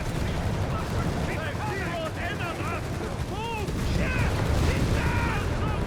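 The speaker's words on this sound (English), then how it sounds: "we got artillery called in by the captain" Artillery barrages in Company of Heroes 3 rumble and crack continuously as dense battle noise, with whistling shells overhead, under a caster's running commentary.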